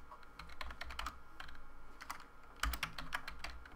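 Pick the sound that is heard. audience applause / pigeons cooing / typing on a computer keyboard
typing on a computer keyboard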